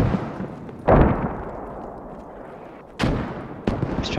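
Mortar shells burst close by during a World War II Operation Market Garden battle at Arnhem in a video game, with three heavy booms spaced a couple of seconds apart, each trailing off into a rumbling decay.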